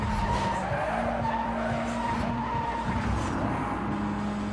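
A car skids through a corner in Need for Speed Most Wanted, with tires squealing in repeated bursts over the roaring engine of the race car, loud and close.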